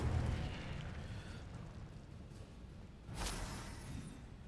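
A fiery Incendio spell is cast in Hogwarts Legacy, a sudden roaring whoosh and crackling burst rising out of a dull rumbling background before trailing off.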